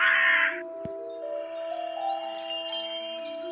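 A raven caws in the Rusty Lake Roots puzzle game, a single short harsh call at the start that stands out clearly over a steady tonal game soundscape, followed by a faint click and soft ambient music.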